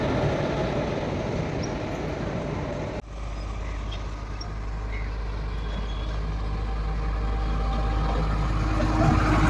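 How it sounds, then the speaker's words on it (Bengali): A train pulls into Khagraghat Road railway station during construction work, a heavy low rumble that builds and persists after a sharp jolt, with voices talking over it. "এই ট্রেন ঢুকে গেল।"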